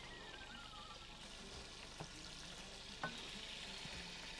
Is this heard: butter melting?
yes